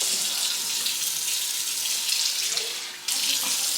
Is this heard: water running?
yes